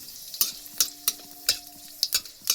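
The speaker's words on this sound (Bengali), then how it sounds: "প্রথমে কড়াইতে তেল দিয়ে দিলাম, তার মধ্যে দিয়ে দেব 5 ফোড়ন, কটা শুকনো লঙ্কা" Five-spice seeds and dried chillies frying in hot oil in a wok, with a short run of sharp crackles and spoon-stirring scrapes coming in bursts every half second or so, close and fairly loud, no voices.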